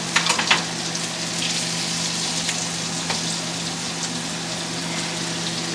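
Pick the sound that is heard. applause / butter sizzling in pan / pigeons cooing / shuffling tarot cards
butter sizzling in pan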